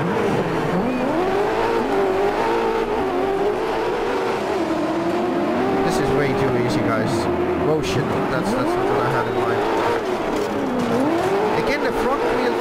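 Front-wheel-drive rally car in DiRT 4 driving hard, a steady engine drone rising and falling through gear changes with bursts of tire noise, loud and continuous under someone talking throughout.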